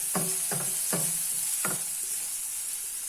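Mustard seeds sputter and pop in hot oil, four or five sharp crackles standing out over a steady close frying hiss.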